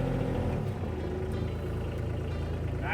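A diesel Corvus DX4s off-road vehicle in four-wheel drive and low gear crawls over rocks, its engine a steady low rumble with a light throttle, close and continuous.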